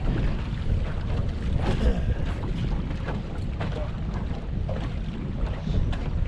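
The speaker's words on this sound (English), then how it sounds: "That wind is cold." Cold winter wind gusts steadily across Lake Lanier, a constant rough roar of wind buffeting the microphone near a fishing boat, with no clear voices.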